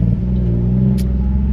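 A loud, close Nissan 370Z NISMO engine rumbles steadily, with a brief sharp high-pitched burst from a faulty exhaust partway through.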